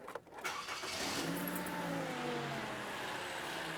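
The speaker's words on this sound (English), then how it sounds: "Okay, I'm gonna turn on the engine." A Toyota Venza's engine cranks briefly and catches, then settles into a steady, moderately loud idle close by.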